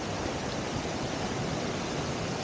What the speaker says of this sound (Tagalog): So meron ditong basag na tubo.